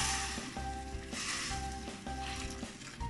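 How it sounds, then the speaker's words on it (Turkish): Sautéed okra sizzling in a pan as hot water is added: a steady, moderate hiss and crackle with faint rhythmic stirring scrapes, no voices. "bamyam da güzelce kavruldu. Şimdi üzerine sıcak su ilave edeceğim"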